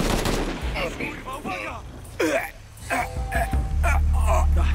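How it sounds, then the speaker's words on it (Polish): Gunfire bursts from the video game Shadow of the Tomb Raider, scattered shots under near-constant excited talk from players, with a low steady rumble taking over near the end. "Halucynogenna strzała i strzela do innych teraz"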